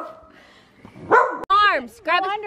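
A dog lets out two sharp, loud barks close by after a short whine and a brief voice indoors.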